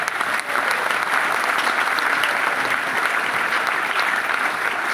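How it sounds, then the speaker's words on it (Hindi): Loud, sustained applause from a large crowd at a gathering in Guwahati, dense and even clapping filling the whole stretch without letup. "जोरदार ताली अवधेश जी के लिए।"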